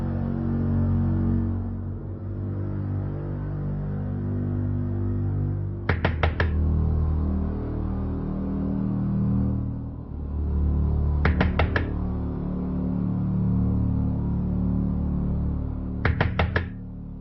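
Three separate bursts of rapid knocking on a door, each a quick cluster of sharp raps, spaced several seconds apart over a steady low rumble.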